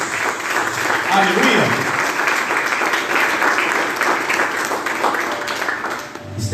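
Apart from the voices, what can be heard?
congregation applauding in church service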